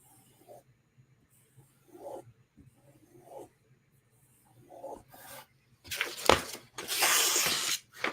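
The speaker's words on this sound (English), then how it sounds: "Just gonna drag it across the strap a few more times." A blade is dragged across a leather strop, a few soft rasping strokes early on and then louder, longer scraping passes near the end, with no talk.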